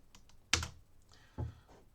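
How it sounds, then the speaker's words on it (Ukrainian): A single computer keyboard space bar press lands sharply at close range, followed by a second, softer press about a second later in a quiet room. "Знову натискаю пропуск."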